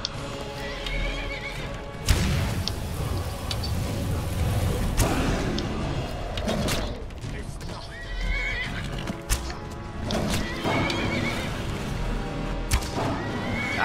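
A horse in the video game Skyrim, during Dawnguard quest combat, whinnies and neighs repeatedly amid clip-clopping hooves and occasional thuds and booms, loud and close.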